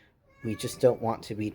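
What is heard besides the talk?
cat meowing in the room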